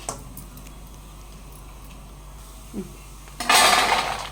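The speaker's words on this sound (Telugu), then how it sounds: "ప్లేట్లో వేసినప్పుడు అలా గలామని సౌండ్ రావాలి" Crispy fried soya chunk pakodas tumble onto a plate with a brief clattering rattle near the end, preceded by a faint clink and quiet room hiss.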